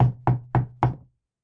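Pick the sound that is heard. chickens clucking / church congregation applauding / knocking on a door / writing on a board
knocking on a door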